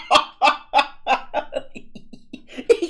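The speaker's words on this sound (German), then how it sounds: "Das sind die Hühner von hässliche Oma Wutz." Cartoon chickens from Peppa Pig cluck in a quick series of about ten bouncy, nasal clucks, loud and close, fading slightly mid-run before a final pair.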